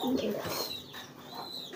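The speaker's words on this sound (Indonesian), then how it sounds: "Merpati piikan saja ini bisa giring keras." A pigeon coos in a short, soft burst close by, with a throaty rolling call under faint background noise.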